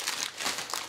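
Plastic wrapping crinkles inside an opened WWII German can, a brief, close, soft rustle lasting under a second, with no voices.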